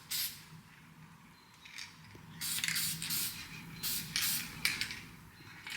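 Short bursts of aerosol spray hiss from a can of copper paint, several quick passes close by, over a low background hum.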